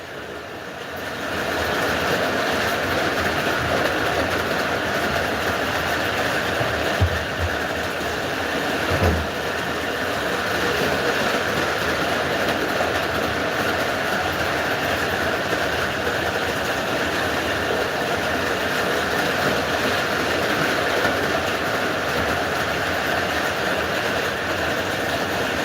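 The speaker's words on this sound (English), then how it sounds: "So I'll just run the trains while I'm doing that." O scale model trains run on track with a steady, continuous mechanical hum and rumble, a few soft clicks and knocks along the way, no voices over it.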